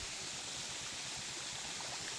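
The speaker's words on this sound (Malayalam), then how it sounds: "വെള്ളച്ചാട്ടം." A cold mountain waterfall pours steadily in a continuous broadband rush, close and dense, with no voices over it.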